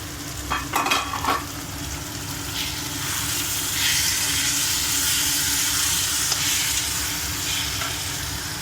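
Coriander, curry leaves and mint are stirred into a masala gravy with a few clanks of a spoon on the pan, then a steady sizzle and bubbling hiss takes over.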